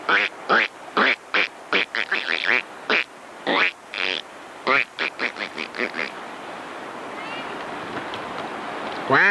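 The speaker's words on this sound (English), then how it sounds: "There's a couple ducks." Ducks on the water give a quick, rhythmic run of close, loud quacks for several seconds, then a steady wash of water and boat noise takes over.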